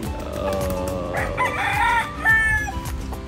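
A gamefowl rooster of Kelso, Sweater or Roundhead bloodline crows in a backyard chicken yard in San Jose del Monte, Bulacan. One loud, drawn-out crow rises over steady yard noise and other birds.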